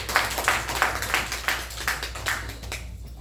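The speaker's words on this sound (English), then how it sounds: "after a warm round of applause" An audience at a scene study class show gives a warm round of applause, a fairly close run of pulsing claps that rises and falls in waves and fades toward the end.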